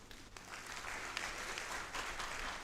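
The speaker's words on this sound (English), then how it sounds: "Thank you for clapping." An audience at a university convocation ceremony applauding, a steady dense wash of clapping from a large crowd in a hall, sustained for a few seconds at moderate distance.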